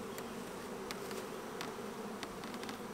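Honey bees hum steadily around a finisher colony at an apiary, a dense continuous buzz with individual bees zipping close past now and then, alone without talk.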